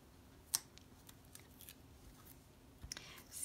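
Scissors cut paper for a papercutting card, making a few faint, close snips and light crinkles at irregular intervals in a quiet room.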